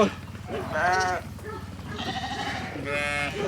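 A flock of sheep kept as livestock in rural Thailand bleats nearby, several drawn-out calls overlapping one another, with a person's voice faintly audible at times.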